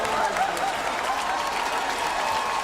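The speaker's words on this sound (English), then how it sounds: "Getting a standing ovation from the Oriole crowd too." Baltimore Orioles baseball fans give a standing ovation at the ballpark, a dense, steady roar of clapping and crowd noise that fills the air without a break.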